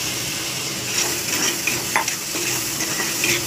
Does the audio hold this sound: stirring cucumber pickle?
yes